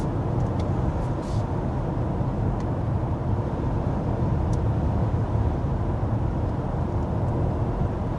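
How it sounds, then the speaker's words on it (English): Inside a 2025 Mercedes GLS 450 SUV cruising at 55 mph on the road, a steady, even broadband roar of road and tire noise fills the cabin with no talking. "we're speeding up to 55 miles per hour to get our official sound level reading here on our designated strip of road"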